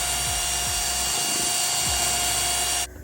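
A power drill spins at high speed, mixing floor sealer with clear coat for a shed floor. The whine is steady, loud and close and cuts off abruptly at the end.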